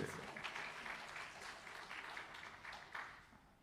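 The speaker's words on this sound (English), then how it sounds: "And that deserves a round of applause." Audience applause at a skiffle show, a faint, uneven patter of hands rising and falling in small bursts, distant and thin with a few louder claps standing out.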